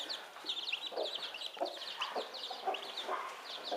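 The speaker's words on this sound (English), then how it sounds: "she knows you're a baby turkey and she knows you're distressed" Repeated high, chirpy peeping calls from a distressed baby turkey poult, near and fairly loud, mixed with clucking from nearby fowl in a hand-hatching setup for guinea fowl keets.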